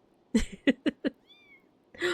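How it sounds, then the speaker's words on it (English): A cat in a medieval-set adventure game meows in a quick run of four short calls, followed by a thin high chirp and one more drawn-out cry, clear and close with no talking. "Oh, I hear a meow."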